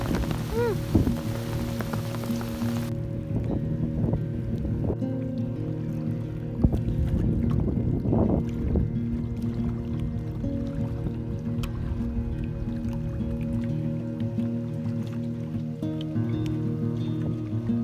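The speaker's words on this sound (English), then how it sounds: "It's insane. This is the biggest hail we've ever seen," Large hailstones come down at a cottage, a dense, steady patter of impacts that is loud and continuous with no one speaking.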